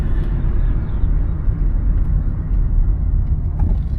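A 1991 Toyota Camry accelerates along the road with a steady low engine rumble and tire noise heard from inside, droning evenly without a clear rise.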